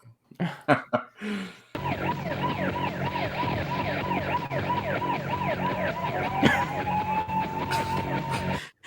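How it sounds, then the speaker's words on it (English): After a few brief bumps, a wailing siren starts and repeats its rising and falling cycle steadily, fairly loud and close, over low traffic rumble. "is that siren going to turn off anytime soon?"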